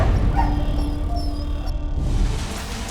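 A stray dog gives short yips and whimpering barks close by over a loud, noisy street background, with a few sharp bursts standing out above the din.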